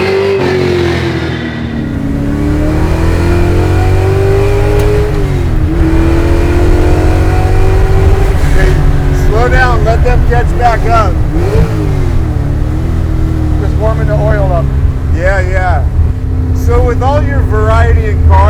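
Vintage Shelby GT350 Hertz Rent-a-Racer race car driving, its engine a loud continuous rumble that rises and falls as it revs through gears, with people talking over it.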